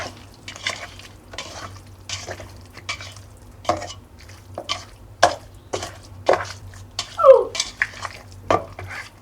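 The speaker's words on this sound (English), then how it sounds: "this one I'm gonna use my hands for, just to make sure everything is nicely coated" Hands tossing and mixing food in a bowl to coat it evenly give soft, intermittent squelchy rustles and light clatters over a steady low hum, with no talking.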